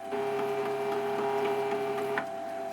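An Emco Compact 5 lathe hums steadily while its tool moves away from the centre line, a close, even motor tone with faint repeated ticking over it and no talk.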